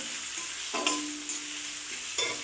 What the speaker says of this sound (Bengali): রাখা পেঁয়াজগুলো দিয়ে দিলাম, দিয়ে ওটাকে ভাজতে হবে।